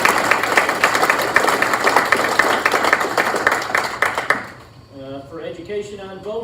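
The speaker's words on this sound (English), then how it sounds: "Thank you, Vince. Let's give another round of applause." Applause from an audience at a Chamber of Commerce candidate forum, dense clapping for about four seconds that quickly dies away, followed by someone speaking.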